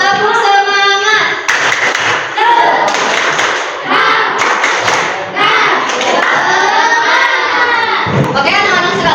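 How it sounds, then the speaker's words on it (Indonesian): Schoolchildren in a classroom perform a rhythmic spirit clap, loud patterned bursts of hand claps mixed with chanting young voices, with brief pauses between phrases. "mari kita tepuk semangat terlebih dahulu"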